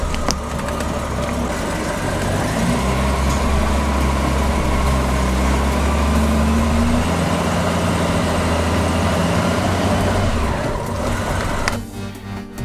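A motorcycle engine runs steadily during a coolant flush, a loud, close, continuous drone with strong low hum that holds even and slightly rises in pitch midway, then drops and changes near the end.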